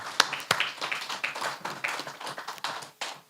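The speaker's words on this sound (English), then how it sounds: "I need to ask for a round of applause for DBS." An audience claps a round of applause at a media launch for a radio reading competition in Dominica: dense, irregular hand claps that hold steady for a few seconds, moderately close and with no talk.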